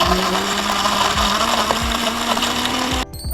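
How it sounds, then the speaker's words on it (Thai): A blender whirs with a steady, loud motor whine as it purees a sweet cup dessert mixture with syrup, running for about three seconds before cutting off abruptly. "เราก็ปิดฝา ปั่นได้เลย"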